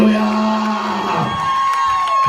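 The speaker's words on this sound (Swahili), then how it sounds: "Hebu piga makofi na vigelegele." A church congregation cheers, claps and ululates together in a steady roar of crowd noise. A sustained high trilling rides over the din throughout.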